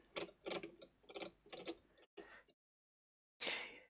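Plastic fan fins catching on the plastic underneath give off a run of sharp, irregular ticks, close and fairly loud, then a short break and one last burst of clicking.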